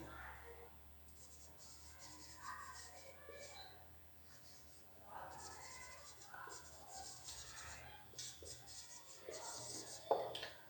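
Chalk or marker scratches out a sentence on a classroom board in quick strokes and taps, faint and close, with soft speech under it.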